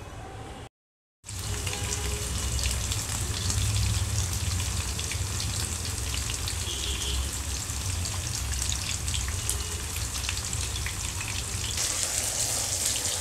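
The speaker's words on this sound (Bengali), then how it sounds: "মশলা কষানো একদম হয়ে গেছে, তেল আর মশলা একদমই পুরোপুরিভাবে সেপারেট হয়ে গেছে।" Spice paste for a Bengali fish curry sizzling steadily in oil, a dense, even crackle and spit that runs continuously after a brief silent gap at the start, with no voices.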